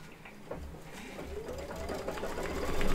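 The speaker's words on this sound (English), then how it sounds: "Let's do the green grass stitching." An embroidery machine stitches green grass onto a sheep mug rug, a steady close mechanical whirr with a fast, even needle rhythm that grows gradually louder and runs alone without talk.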